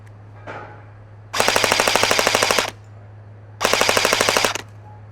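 An EMG Helios F4-15 ARS-L airsoft electric rifle fires two full-auto bursts of rapid, evenly spaced clacking shots, each over a second long, loud and close over a steady low hum.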